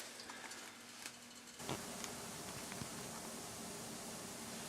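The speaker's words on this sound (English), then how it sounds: "while we're waiting for our onions and garlic to get nice and translucent, I'm just going to stir that occasionally" Onions and garlic sizzling in a pan, a soft steady frying hiss that grows louder after a stir, with a few faint utensil clicks.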